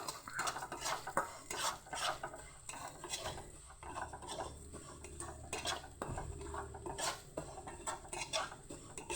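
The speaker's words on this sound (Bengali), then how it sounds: "তেল দিয়ে মুগ ডালটা ভেজে নেব।" Mung dal frying in a little oil in a pan, heard as repeated metal clinks and scraping of a spoon stirring against the pan over a low, steady sizzle, with no talking.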